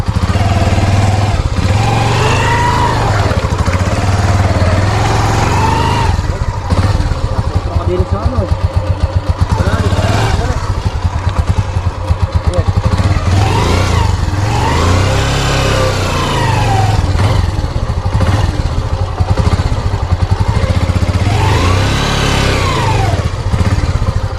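A motorcycle engine runs continuously close by, droning and occasionally revving, with people talking over it throughout, outdoors in hot weather.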